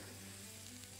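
Onions sizzle and fry steadily in a pan while being stirred, with a small spoonful of flour added, a continuous close hiss with no talking.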